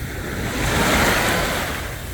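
Ocean waves from the Gulf wash onto Kite Beach in Dubai at night, a loud, steady surf roar that swells and eases, with some wind rumble across the microphone and no voices.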